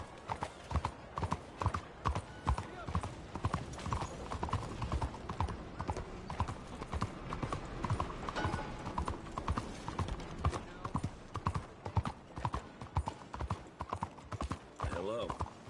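Horse hooves clip-clop in a steady walking rhythm in Red Dead Redemption 2, close and continuous, with a brief whinny near the end and faint game ambience underneath.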